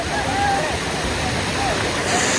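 Steady roar of a waterfall at a deep gorge viewpoint, continuous broadband rushing water heard close and loud, with a faint tonal squeal drifting over it.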